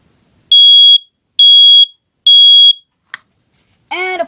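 A Kidde i9030 smoke alarm sounds three loud, evenly spaced shrill beeps, each about half a second long. A brief click follows, then a short burst of a different warbling tone at the end. No talking.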